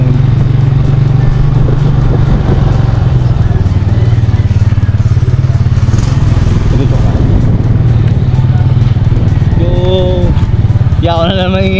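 A motorcycle rides over a rough road on the way to a fishing spot, its engine a loud constant drone with rattling and clatter throughout, while people talk over it.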